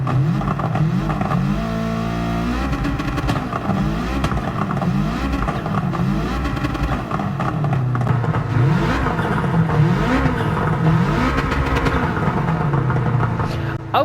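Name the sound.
Subaru engine revving with anti-lag, Gran Turismo 7 video game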